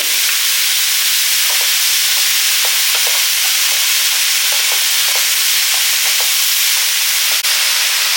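Vegetables seasoned with turmeric and salt sauté in a pan, giving a steady bright sizzle and hiss throughout, with light scrapes and taps as they are stirred.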